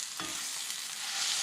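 Jimmy Dean hot sausage sizzles in a pan as it is mashed down, a soft, steady frying hiss with a brief scrape near the start.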